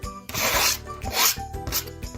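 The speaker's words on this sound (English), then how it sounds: "We're gonna heat up some oil, saute some onions, along with some seasonings" Onions, tomatoes and seasonings sizzle in hot oil for Indian dal, a steady close frying hiss with scraping stirs and brief pulses, no talk.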